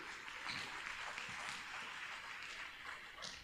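A church congregation applauding, a continuous dense wash of many hands clapping together, steady and fairly distant, with no distinct voices over it.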